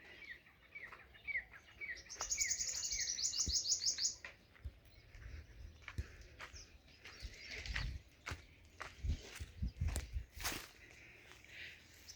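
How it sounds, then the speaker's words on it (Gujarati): Birds chirping in the morning on a farm, a burst of rapid bright tweets and trills at moderate distance, followed by scattered knocks and footstep-like thumps nearby. "પંખી મસ્ત કલરવ કરી રહ્યા છે।"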